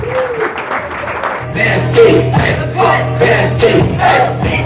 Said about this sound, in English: Let's give a big round of applause for Jermaine and Allison.